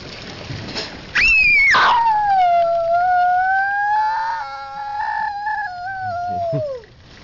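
A pet dog howls loudly and close during a thunder and hail storm, one long wavering, falling howl lasting several seconds that tails off at the end, with rough storm noise underneath.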